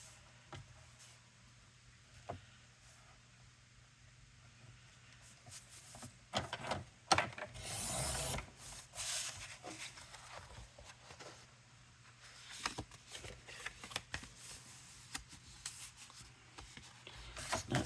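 A strip of card being cut for card making, a quiet scraping, sliding cut that swells for a couple of seconds midway, with light handling rustles before and after in a hushed room.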